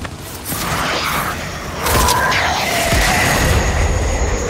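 A structure blows apart in a Gears 5 match, a loud sustained rumble and crash that swells partway through and keeps grinding and roaring to the end, with no speech over it.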